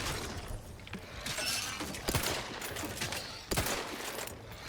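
Gunfire from a slow-firing weapon in the video game The Outer Worlds 2, with several sharp reports standing out over a busy, noisy game background; no talking.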